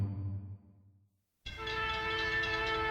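A train on New Zealand's South Island, heard as a sustained horn that fades out, a moment of silence, then a steady rumbling rail roar with a tonal horn-like drone, fairly loud and close.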